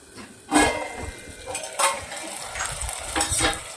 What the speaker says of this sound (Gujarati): હવે આપણે ગવાર નાખી દેવાની છે.